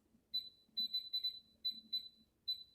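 An air fryer's control panel gives a series of short, high, electronic beeps while its cooking timer is lowered, some in quick pairs or triplets with small gaps, fairly close and with no voice over them.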